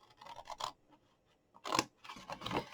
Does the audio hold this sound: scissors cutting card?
yes